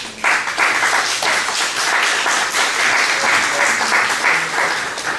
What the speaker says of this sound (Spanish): voy a dejar con ustedes a Mario Mayapoma Gutiérrez, para quien solicito fuertes aplausos.